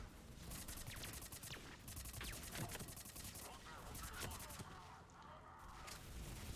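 Rapid automatic fire from a Krogan-style heavy weapon in the Mass Effect 3 video game, loud and sustained with dense repeated shots, while a person talks over the shooting.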